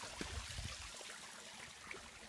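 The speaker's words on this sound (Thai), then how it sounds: "มีน้ำตกแบบนี้นะครับ" Phu Sing waterfall in Amnat Charoen province, Thailand, flowing as a steady, faint wash of falling water with soft low rumbles and no talk.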